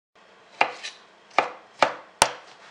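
Close knife chops through tomatoes for spicy Italian tomato sauce, four distinct cuts in an uneven rhythm, each a soft thud with a wet slicing tail, and no speech.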